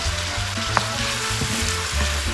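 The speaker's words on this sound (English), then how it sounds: "ਤੇਲ ਗਰਮ ਹੋ ਗਿਆ ਉਦੋਂ ਪਿਆਜ਼ ਸਿੱਟ ਲਿਆ।" Chopped onion frying in hot oil in a pan makes a continuous close sizzle with a few small pops and a low steady hum beneath, no speech.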